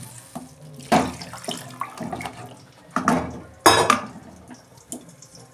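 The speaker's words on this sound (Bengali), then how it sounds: "আমি জল দিয়ে দিচ্ছি, পরিমাণ মতো জল দেবো" Water is poured into a pan of mango chutney seasoned with salt and turmeric, giving splashing and trickling in a few uneven bursts, close by, with small clinks of a utensil between pours.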